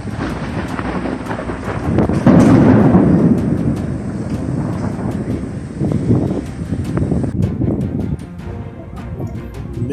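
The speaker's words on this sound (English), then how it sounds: "The powers to create these flashes and this thunder is amazing." Thunder from a tropical thunderstorm in Thailand rolls in with a loud crack and long rumble, then lingers in waves over steady rain and wind buffeting the microphone, with no voices.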